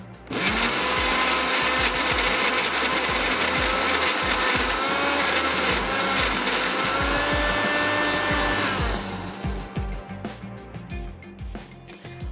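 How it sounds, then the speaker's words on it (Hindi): An electric blender whirring through a mango ice cream mixture of mango, condensed milk and cream, a loud steady motor whine holding for about nine seconds before it stops and winds down. "इसको दोबारा से ब्लेंडर चला लेते हैं।"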